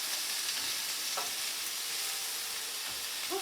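Roasting beets and vegetables stirred in an oiled pan with pepper added, steady sizzling hiss with a couple of soft scraping strokes of the utensil.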